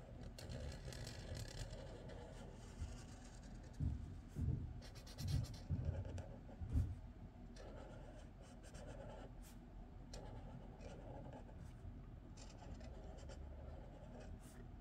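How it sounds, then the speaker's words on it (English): A pen traces over drawn lines on paper in an art journal, making faint, soft scratching strokes in short bursts and then quieter continuous scraping, all very low in level. "use whatever you have on hand to make it accessible. Pen, pencil, anything. And I'm just going to go over all the lines."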